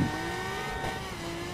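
Ferrari LaFerrari and F12 race cars accelerate in the video game The Crew, their engines droning and climbing steadily in pitch at moderate loudness.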